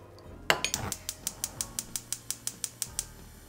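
A utensil stirs mirin, soy sauce and rice syrup in a bowl, making a steady series of about fifteen evenly spaced, close clinks and taps against the dish.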